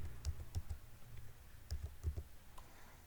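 Python code typed on a computer keyboard, a close run of crisp irregular key clicks with short pauses, alone without talk.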